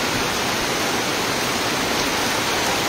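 Torrential rain from a typhoon keeps up a broad, unbroken hiss and rush, loud and near for a few seconds with no one talking.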